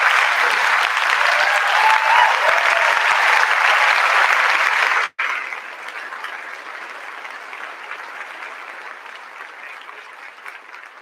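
Audience applause for a retiring staff member at a school staff end-of-year celebration, a dense, loud wash of clapping for about five seconds, then a sharp break followed by quieter, thinning claps to the end.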